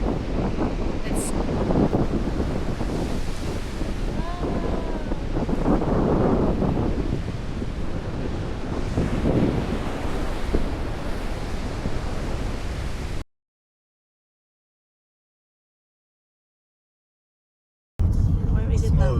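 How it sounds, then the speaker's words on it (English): Big ocean waves at the end of a boardwalk roar with a broad surf wash and gusty wind buffeting the microphone, steady for about thirteen seconds before cutting out, then briefly returning. "look at the big waves!"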